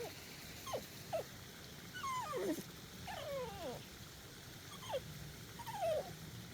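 Out on a forest walk, a dog makes high, wavering whimpers and trilling whines in short bursts, several in a row with brief gaps, close by and fairly soft over quiet outdoor background.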